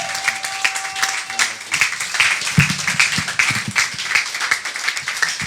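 A church congregation claps and cheers to welcome a preacher onto the stage, with steady, dense applause filling the space throughout and a brief tone heard near the start.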